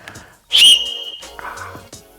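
A loud, piercing blast from a 3D-printed plastic whistle, shrill and sustained for about a second, then fading into quieter background sounds.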